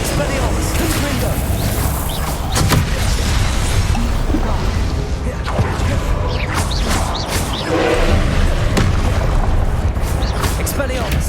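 Confringo blast explosions from Hogwarts Legacy, booming impacts and crashes scattered through a loud, busy combat mix with a steady game soundtrack beneath.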